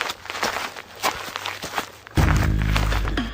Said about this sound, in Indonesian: Kamu mendengar seperti ada suara langkah kaki, tapi di sekitar tidak ada siapa-siapa